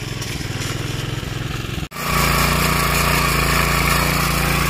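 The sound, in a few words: tractor engine running on a farm in Konkan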